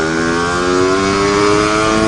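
A 333cc Lambretta scooter engine revs hard and close, a loud, continuous buzzing drone with steady rising pitch throughout.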